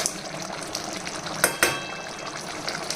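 Egg and potato curry with tamarind simmering slowly in a pan, a soft continuous bubbling sizzle with a couple of brief stirring clatters.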